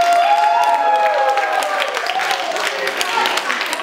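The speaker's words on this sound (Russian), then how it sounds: "Аплодисменты." Applause from a group at a family camp's opening greeting event, brisk clapping mixed with crowd noise under someone talking over it, loud at first and easing slightly toward the end.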